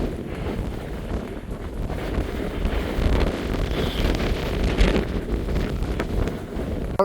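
Strong, gusty wind roars across a microphone on a Scottish mountainside near Inverlochlarig, a steady rumbling buffet that swells and eases over several seconds with no voices.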